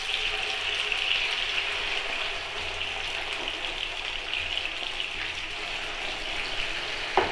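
Half a kilo of tomatoes frying in hot ghee for an egg and tomato dish gives a soft, steady sizzle. It stays fairly quiet and even throughout, with a small clink near the end.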